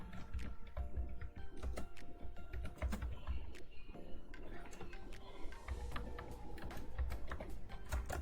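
Rapid, steady clacking from a computer keyboard fills the clip as someone types questions into a Google Forms quiz, close and continuous with no talking.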